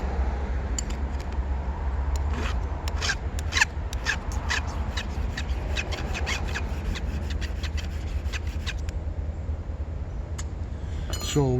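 A metal file rasps against chainsaw teeth in quick, repeated strokes, close by and steady, with no talking.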